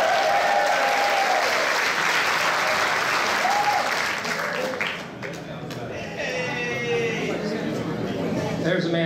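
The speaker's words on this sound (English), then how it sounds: "There's a man who knows how to get a cheap round of applause right there." Sustained audience applause fills a Republican Club meeting at Heritage Ranch, with dense clapping throughout, a brief dip midway, and crowd murmur and voices mixed in.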